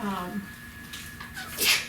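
A single sneeze bursts out near the end of a stretch of quiet room tone during a school meeting, with a faint voice earlier on.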